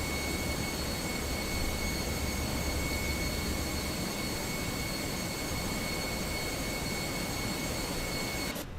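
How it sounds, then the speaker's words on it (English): Steady, loud jet engine roar with a broad rumble and constant high whine from a reworked Fenix A320 in Microsoft Flight Simulator 2024, unbroken and heard alone for nearly the whole stretch. "they reworked the engine sounds as well, so we'll see how the new engine sounds"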